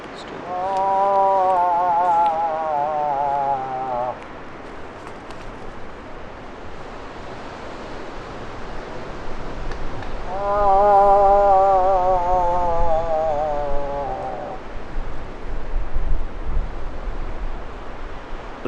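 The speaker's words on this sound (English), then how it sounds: "It's windy." Steady wind rushes and buffets throughout near a trailhead, with two long stretches of a wavering tonal drone rising above the noise.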